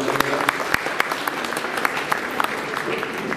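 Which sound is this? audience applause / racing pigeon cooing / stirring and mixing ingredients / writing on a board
audience applause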